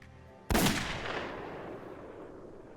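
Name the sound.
revolver gunshot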